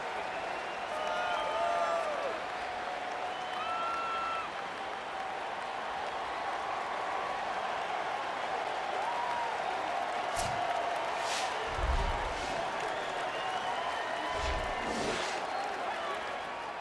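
A home crowd in the EA Sports College Football 27 video game keeps up a continuous stadium roar and cheering, with a few swells and some thumps, under a commentator's voice.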